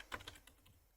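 Quick, faint taps on a computer keyboard, a short burst of several keystrokes close by with no talking.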